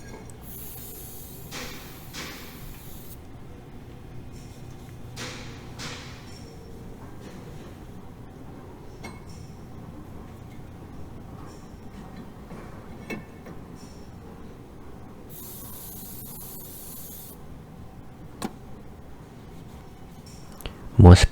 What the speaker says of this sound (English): So this is how I clean my brake rotors with a brake cleaner.